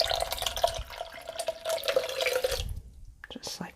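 Water is poured into a melted shea butter and stearic acid lotion mix while an immersion blender runs, giving a steady splashing trickle over a faint motor hum that cuts off near the end.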